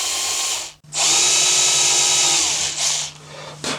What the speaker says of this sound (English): just drill some little shallow holes which I'm going to push the posts